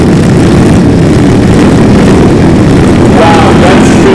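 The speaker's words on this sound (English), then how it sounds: "Check out the rev on this motorcycle." A loud, continuous engine roar with a rough, rumbling low end, steady throughout with no speech.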